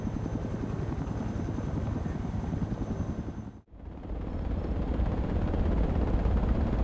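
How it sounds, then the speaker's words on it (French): A helicopter's rotor in the video game Project Reality chops steadily and loudly, drops out abruptly for a split second, then returns just as strong and continuous. "on perd le contrôle de l'hélico assez rapidement"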